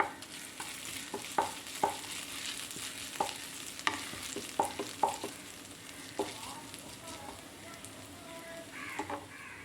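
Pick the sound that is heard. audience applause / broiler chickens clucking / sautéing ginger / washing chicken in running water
sautéing ginger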